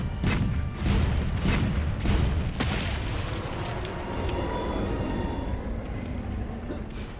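Cannons fire in Monster Hunter World during a battle against Zorah Magdaros, a series of loud booms spaced about half a second apart at first, then a dense rumbling roar continuing under game sounds.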